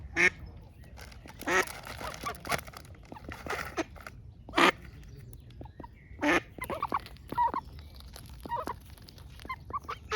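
Ducks quack nearby in irregular bursts, some loud and close, others softer, over a low steady background hum.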